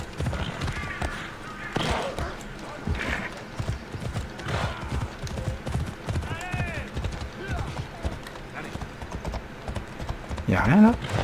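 Horse hooves clip-clopping in Assassin's Creed Odyssey, a steady run of hoofbeats in the foreground with game ambience, a whinny and a voice speaking over them throughout.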